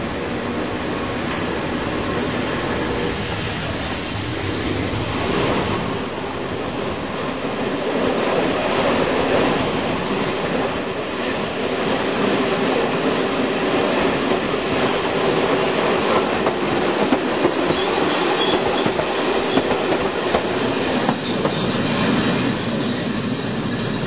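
An ONCF train in Morocco, hauled by a 5500 kW Alstom Prima electric locomotive on single-track line, rolls past with a sustained rumble, rhythmic wheel clatter and some squealing that builds and swells over the whole stretch.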